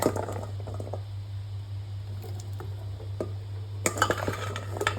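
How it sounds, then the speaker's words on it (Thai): Pumpkin simmers in a pot over medium heat as a utensil stirs it, with scattered scrapes and clinks against the pot and soft squishing. A low steady hum runs underneath throughout. "นำฟักทองใส่ลงไปต้ม ค่อยๆ ต้มยังคงใช้ไฟกลางอยู่นะคะ"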